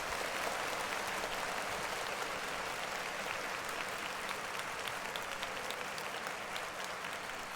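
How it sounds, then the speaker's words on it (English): Studio audience applause during a talk show segment celebrating a newborn baby, a continuous even wash of clapping that holds steady for several seconds at moderate distance, with no voices over it. "Clap it up for Noah."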